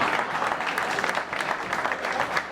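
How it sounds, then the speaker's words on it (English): Steady applause from an audience at a Coca-Cola KnockOut launch event, a dense wash of clapping hands that carries on evenly for a couple of seconds with no voices over it. "Give me a round of applause."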